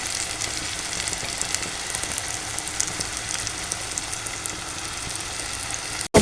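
Fennel seeds sizzle in hot oil for a Kerala-style fried clam dish, a steady, dense crackle that holds close and even throughout before cutting off abruptly at the end.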